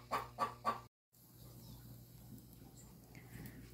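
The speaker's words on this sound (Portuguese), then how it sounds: "As galinhas." Chickens cluck on a rural farm, three short close clucks in quick succession, then a brief gap and faint background noise with distant bird sounds.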